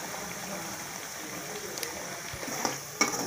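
A masala egg fry sizzles in a pan while being stirred, with a steady soft frying hiss and occasional scrapes of the spoon, no voices.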